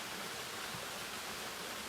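A small stream, or burn, ripples and rushes in a continuous broadband wash, steady and even.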